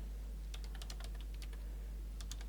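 Computer keyboard keys tapped in short uneven bursts, light clicky strokes over a steady low hum, with no talking.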